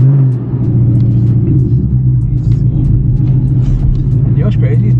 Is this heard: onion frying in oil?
no